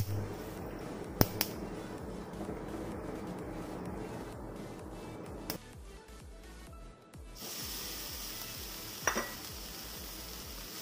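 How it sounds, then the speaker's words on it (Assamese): Mustard seeds splutter in hot oil in a home kitchen, giving a crackling sizzle with scattered sharp pops and a few clinks of a utensil, after which a brighter hiss takes over, with no talking. "সৰিয়হকেইটা ফুটিবলৈ দিব লাগিব"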